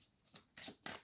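Tarot cards being shuffled before one is drawn: three quick papery riffling bursts, each brighter than the last, close and fairly soft with brief pauses between.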